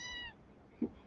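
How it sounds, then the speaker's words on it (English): A cat meows once, a short close harmonic call, followed by a faint low thump. "Say hi, kitty kitty."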